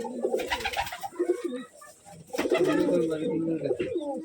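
Low rolling coos from gerebaj pigeons fill a loft on a Rajshahi pigeon farm, several birds calling together up close, while people talk intermittently underneath.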